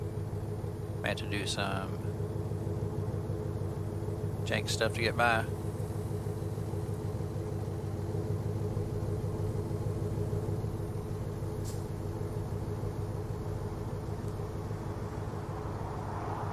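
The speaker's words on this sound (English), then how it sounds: "Holy cow, it's a lot of traffic." A steady engine drone and low rumble of heavy road traffic in the trucking game American Truck Simulator, with a Scania truck running a lowboy trailer, continuing under a voice with a few brief higher tonal bursts.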